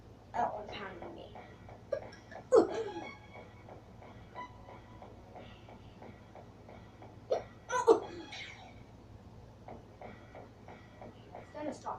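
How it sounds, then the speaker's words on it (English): Repeated hiccups from a person playing a video game, short sharp catches recurring among steady game sounds and rumbling background, with the player talking between them. "Oh, the hiccups."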